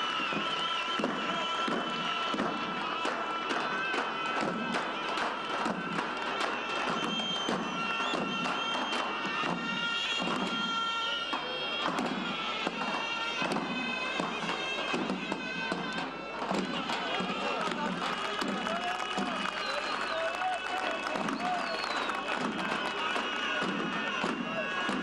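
Outdoors at a Biga oil wrestling event, a large crowd applauds the head wrestlers with dense, sustained clapping that runs through the whole stretch, and an announcer's voice is heard over the applause.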